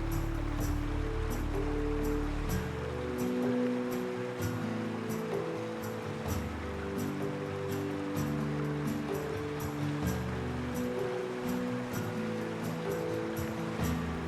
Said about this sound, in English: Soon we enter a narrow stream.